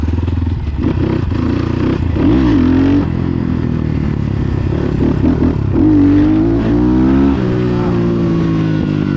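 Close, loud engine of a cross motorcycle accelerating on pavement during wheelie practice, rising in repeated throttle bursts with the pitch sweeping upward, brief dips between pulls and a rough, clattery edge.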